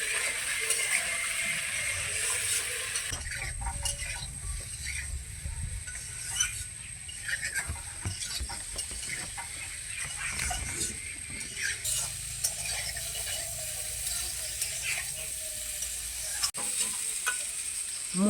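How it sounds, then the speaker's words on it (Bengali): Elephant foot yam frying with a rohu fish head and spices in a pan, a steady sizzle with repeated scraping stirs and clinks from the spoon, close and continuous. "ভালো করে একটু ভেজে নেব।"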